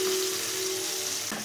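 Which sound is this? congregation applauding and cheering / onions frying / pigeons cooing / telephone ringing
onions frying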